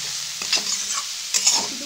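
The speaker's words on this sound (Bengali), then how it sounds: "2-3 মিনিট ভালো করে ভেজে নেবো।" Grated carrot and beetroot fry in a pan for a Bengali vegetable chop filling, a steady soft sizzle broken by a couple of scraping stirs.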